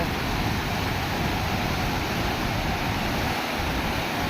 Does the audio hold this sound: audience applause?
no